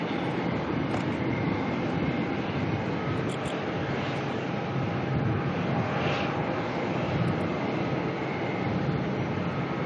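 An Airbus A350-1000ULR jet departs Melbourne airport, producing a loud, steady broadband roar that fills the full ten seconds without easing and carries no voices.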